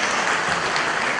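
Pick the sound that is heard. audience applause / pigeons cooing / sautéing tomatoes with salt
audience applause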